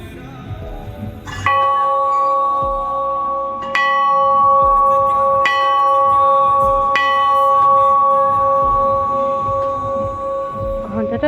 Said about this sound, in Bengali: আর এবার আমি ঘন্টাটা বাজাতে যাব শুধু শব্দটা আপনারা শুনুন